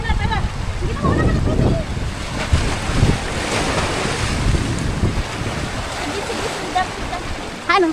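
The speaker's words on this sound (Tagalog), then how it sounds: "Parating pa yung alon na malaki." A large sea wave rolls onto a rocky coast during coasteering, a loud, wind-buffeted roar of surf sustained throughout, with people's voices mixed in.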